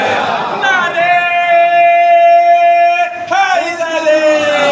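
At a Shia majlis gathering, a crowd roars a drawn-out slogan in response to a call, a loud, sustained chorus of voices that holds steady for several seconds before breaking off and rising again.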